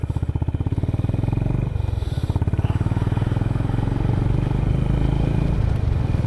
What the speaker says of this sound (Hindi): ये रहे अपने सुखिंदर भाजी, आज पूरी नौजवानों वाली फील लेके सर ने पूरी बाइक दौड़ाई है आज